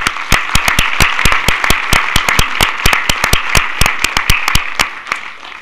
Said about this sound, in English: One more round of applause for our mayor.